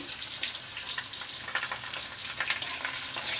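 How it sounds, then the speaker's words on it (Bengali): Dried chilies and garlic sizzle in hot oil in a pan. The crackle is dense and continuous, and a few sharper pops and stirring scrapes break through near the end. "শুকনো মরিচটা একটু সুন্দর করে ভাইজা নিলাম"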